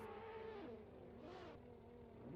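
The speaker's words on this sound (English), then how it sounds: "I'm hearing cars, so I think that means we're going to be heading to the line here." Drifting cars in an esports racing game, engines droning and revving steadily with pitch swings as they slide, a continuous loud motor roar throughout without speech.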